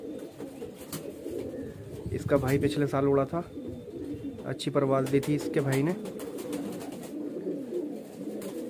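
Highflyer pigeons cooing in low, throaty bursts that swell and fade, heard under someone talking nearby.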